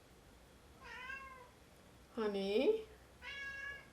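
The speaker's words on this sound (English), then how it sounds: "that's my cat meowing." A pet cat meows three times in a row, the middle cry louder and longer than the other two, heard close in a quiet room with a person briefly speaking.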